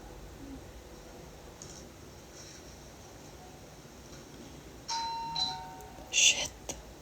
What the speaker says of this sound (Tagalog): May nag-doorbell.